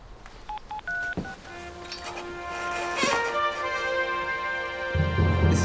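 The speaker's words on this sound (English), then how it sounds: "I've just got to make a very urgent phone call." Telephone keypad tones ring out one by one in short discrete beeps at first, then give way to a longer steady tone, heard clearly with no talking over them.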